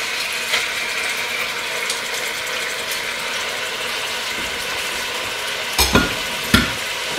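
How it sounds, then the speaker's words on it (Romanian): Steady sizzling of pork frying in hot oil in a cast-iron cauldron, with a few sharp clanks of a utensil against the pot near the end. "Și punem carnea la prăjit."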